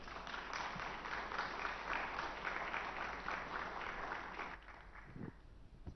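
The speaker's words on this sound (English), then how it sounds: "I think the applause more than well merited" Audience applause fills a summit hall after an author's talk, a steady dense wash of many hands clapping that thins out and fades near the end.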